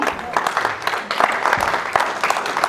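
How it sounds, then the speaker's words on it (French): A church congregation applauds and shouts in acclamation of the Lord, a loud, dense burst of crowd noise mixed with many raised voices, lasting a few seconds. "Acclame le Seigneur."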